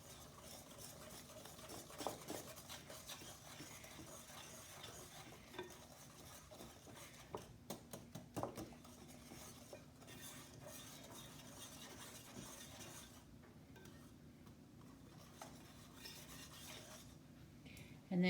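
Persimmon puree being stirred into whipped cookie dough in a bowl, a steady soft scraping and sloshing with a few sharper utensil clicks against the bowl, close and fairly quiet, no talking.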